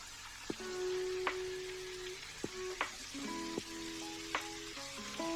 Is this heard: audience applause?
no